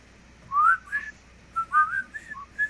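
Someone whistles a short tune from the 1980s, a run of bright, wavering notes in separate phrases with brief pauses between them, close and fairly clear, with no talking.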